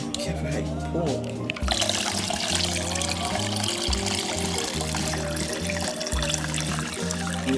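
Hot basil tea being poured into a container, a continuous trickling splash with a rhythmic low hum behind it and a voice talking over parts of it.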